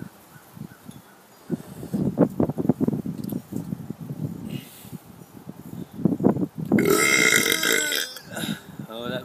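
A run of loud, drawn-out burps comes in several bursts over a few seconds, close and raspy, with a brief rustling noise near the end.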